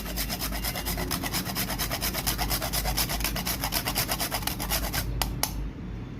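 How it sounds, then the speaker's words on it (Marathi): Nutmeg is grated over mango shrikhand in steady, rapid rasping strokes, close and continuous for about five seconds before stopping with a couple of light clicks. "आणि यात थोडीशी मी जायफळ किसून टाकणार आहे."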